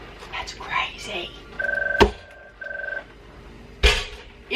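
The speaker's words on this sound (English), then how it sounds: "It is 8:30 at night and the phone still rings." A telephone rings in two electronic trilling bursts amid knocks and clatter in a metal workshop at night, with a person speaking quietly nearby.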